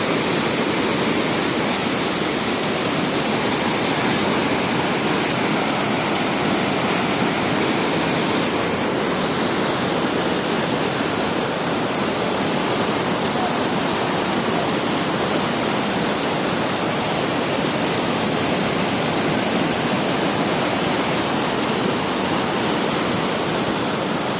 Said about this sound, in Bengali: হালকা বৃষ্টি হতেই পানি নামতেছে